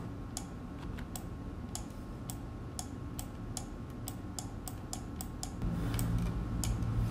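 Computer keyboard typing during food photo editing: steady, close, crisp key clicks tapping in an irregular rhythm across the whole stretch over a faint hum.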